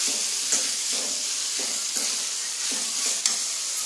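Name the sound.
water poured into sizzling chicken curry in pan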